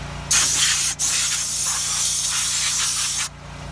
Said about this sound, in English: And this air, it gets into little crevices and blow all the crumbs out they've been eating in their vehicle.